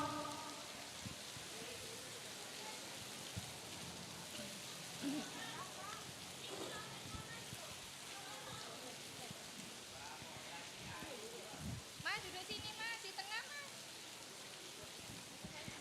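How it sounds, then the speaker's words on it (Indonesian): Rain falls steadily on a roof or canopy over an outdoor school speech contest, a constant wash of drops with scattered voices and crowd chatter mixed in beneath it. "Biar enggak kena hujan,"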